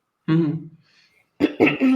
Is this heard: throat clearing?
yes